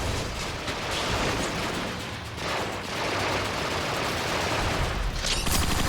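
Sustained rapid gunfire from turrets in Transformers: Rise of the Dark Spark, a dense, loud, continuous barrage of shots with no speech.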